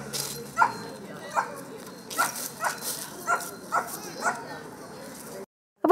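A police detection dog searching for a drug-imitation scent lets out a string of short, sharp barks and yips at fairly regular intervals, with some whimpering and ambient noise in between.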